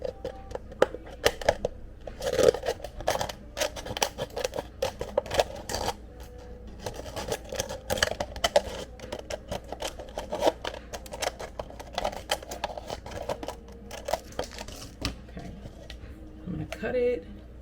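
Repeated sharp snips and crackly cuts come in an irregular rhythm as scissors cut through a plastic cup, with faint background sound.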